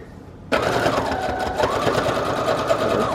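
A sewing machine running a zigzag stitch at 2.5 stitch length on collage masterboard tags starts abruptly and keeps up a steady, close, buzzing whir with a fast mechanical pulse, no talking.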